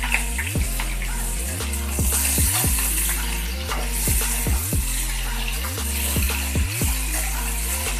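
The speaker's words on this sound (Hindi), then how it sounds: "अब मैं पटल और आलू को इसमें डाल देती हूँ।" Pointed gourd and potato pieces fry in a pan for aloo patal posto, a continuous close sizzle broken by repeated rhythmic knocks and scrapes of stirring.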